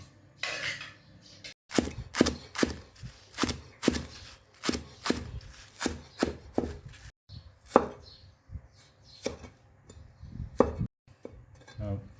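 A knife chops herbs rapidly on a cutting board for beef larb, sharp regular knocks in quick bursts with brief pauses, close by and without speech.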